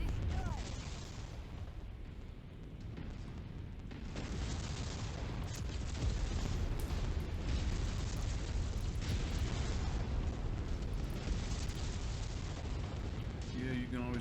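Tanks blow up beneath a mech's feet in MechWarrior 5, a continuous run of heavy rumbling blasts and booming explosions that swell and persist, loud and dense, with talk occurring alongside.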